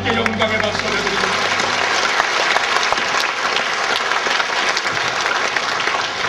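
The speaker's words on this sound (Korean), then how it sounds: "주의 밝은 빛 인도해 주시는 하나님께 영광의 박수 올려드립니다" A congregation at a church service bursts into sustained, dense applause that stays loud and even throughout, with a voice speaking briefly over the clapping at the start.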